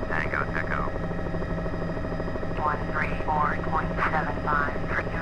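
A Jet Ranger helicopter in Microsoft Flight Simulator drones steadily and evenly throughout, with a voice speaking over the constant rotor and engine noise.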